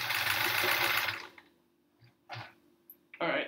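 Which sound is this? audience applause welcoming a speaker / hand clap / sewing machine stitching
sewing machine stitching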